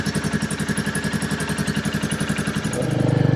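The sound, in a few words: Royal Enfield Meteor motorcycle idling with cat-delete exhaust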